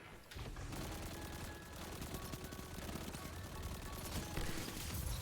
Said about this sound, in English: Just kind of pre-fire some shots into there.